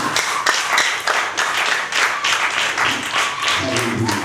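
Church congregation clapping and cheering in worship, a loud, close, continuous burst of applause with voices mixed in.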